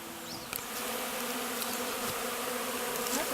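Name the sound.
honeybee swarm buzzing at top bar hive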